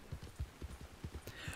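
Horse hooves clip-clop in Red Dead Redemption 2 as a rider nears a riverbank, a steady rhythmic run of about eight close, heavy footfalls with faint splashing texture above.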